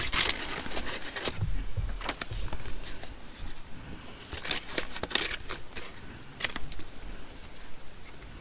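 Scissors snipping through paper ephemera during crafting, irregular crisp cuts and rustling paper at close range, with no voices.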